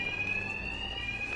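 Alarms ringing continuously in the Batman: Arkham Knight video game, a loud steady high electronic tone held without a break, with no talking.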